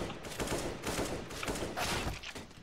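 Automatic gunfire spraying in a video game, a rapid string of sharp shots with irregular bursts, fairly faint and continuous throughout.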